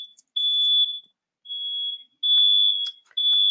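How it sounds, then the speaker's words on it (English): An alarm sounds during a lecture as a loud, piercing electronic tone repeating in four long pulses with short gaps, close and alone with no talk. "that is an alarm"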